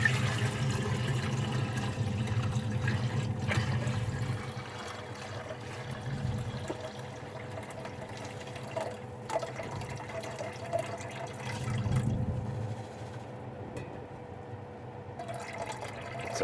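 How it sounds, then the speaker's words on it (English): Electrolyte from a silver refining setup pouring into a beaker, a steady close liquid gurgle and trickle that swells and eases over several seconds, with no talking. "I think I'm going to empty our electrolyte out into this beaker here"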